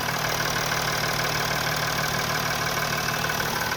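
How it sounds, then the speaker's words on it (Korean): A Mercedes-Benz S-Class diesel engine idles steadily and loudly up close with the hood open, a continuous even rumble with a faint regular knock, nothing else audible. "지금 이제 엔진음도 한번 들어볼게요"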